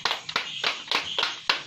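A small group claps in a classroom for students who have just finished presenting, giving a short run of sharp, fairly close claps in an uneven rhythm.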